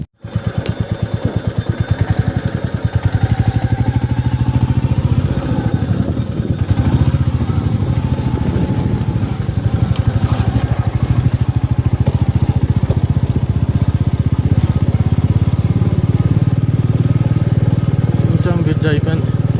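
Motorcycle ride in Spiti Valley near Chicham Bridge, a steady loud engine drone with rattling and wind for the whole stretch, up close and unbroken, with voices faintly mixed in.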